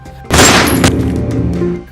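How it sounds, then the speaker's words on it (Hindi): A pistol shot fired at a bottle balanced on a man's head: one sudden loud crack with a sharp attack and a long, slowly fading ring and rumble after it, with no voices. "गोली चलने की आवाज आती है।"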